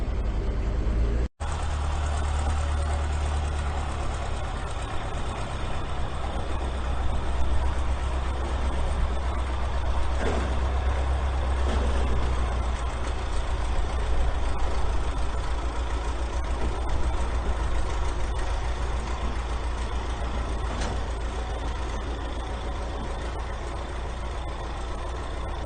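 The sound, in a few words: truck being dragged over to the shop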